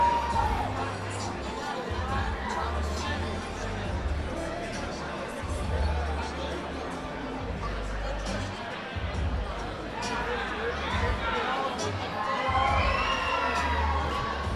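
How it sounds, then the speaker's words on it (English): A live fight league audience cheers and shouts while awaiting the judges' decision, a dense roaring crowd with chatter and whoops rising in intensity near the end, under commentary. "Crowd on their feet here."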